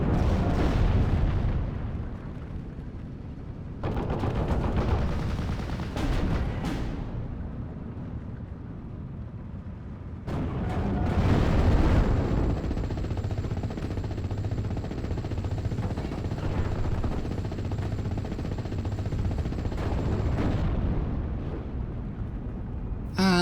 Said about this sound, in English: And of course my artillery is coming in just about in time to hit nothing